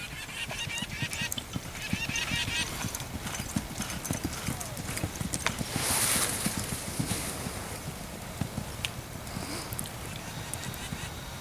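Yearling horses' hooves, including a gray and a chestnut filly, clip-clop steadily at a walking pace while people talk nearby, with a few outdoor background noises mixed in.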